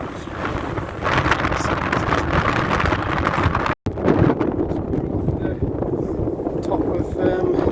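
Strong wind gusting across the exposed top of Helvellyn, buffeting loudly and continuously at close range, with a person talking under the roar.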